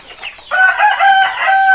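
Chickens at evening feeding time cluck and crow loudly and close by. Faint clucking comes first, then a sustained rooster-style crow joins and continues to the end.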